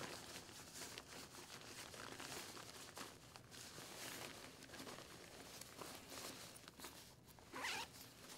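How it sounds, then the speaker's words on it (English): Zipper on an Alpinestars T-Missile Drystar motorcycle jacket pulled open to reach the mesh liner, a quick close ripping zip near the end amid soft fabric rustling and handling noise. "unzip right here. That'll get you behind the mesh liner."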